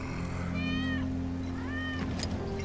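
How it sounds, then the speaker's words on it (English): In the video game Final Fantasy VII Remake, a cat gives two drawn-out meows about a second apart, moderately near, over a steady low hum of in-game ambience. "That's Wedge's cat."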